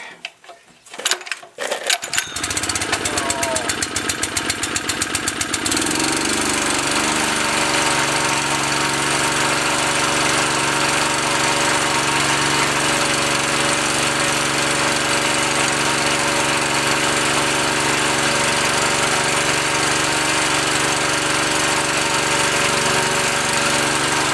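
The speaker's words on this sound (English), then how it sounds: "let's see if I can get this going" A Honda WB20 XT water pump's small engine catches after a few rattling pull-start clatters, then settles into a loud, steady, rapid chugging that runs on without a break.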